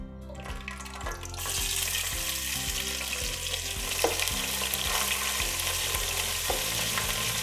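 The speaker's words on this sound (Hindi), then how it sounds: "ये आधा कप मैंने इसमें ऑयल डाला है। अब मैं इसमें लहसुन अदरक ऐड करूँगी।" Garlic and ginger dropped into half a cup of hot oil for a keema pyaz recipe, a sudden loud sizzle that continues steadily with stirring scrapes, heard alone without talk.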